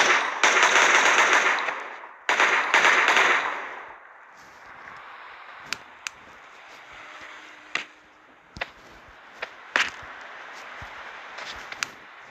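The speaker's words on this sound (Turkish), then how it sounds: "İşte patlatan mermi bu." Explosive bullets fire in the Melon Sandbox video game: two loud sustained bursts of rapid gunfire and explosion at the start, then a fading rumble with scattered sharp shots and clicks.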